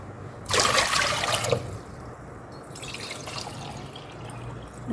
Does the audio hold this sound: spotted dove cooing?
no